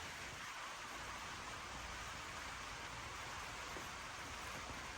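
Rain falls in a storm as a steady, faint wash of hiss with no pauses or distinct drops, and no voices over it.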